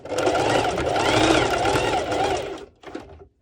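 A sewing machine runs a straight stitch on bikini fabric in a continuous fast whirring hum that stops abruptly, followed by a brief second burst of stitching.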